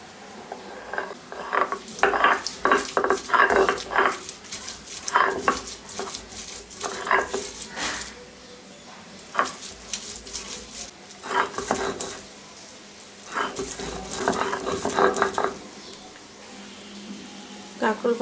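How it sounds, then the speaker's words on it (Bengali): Spiny gourd leaves are ground by hand on a flat stone grinding slab, making a steady, rhythmic rasping scrape close up that pauses now and then. "কাঁকরোল পাতাগুলো এখন আমি বেটে নেব।"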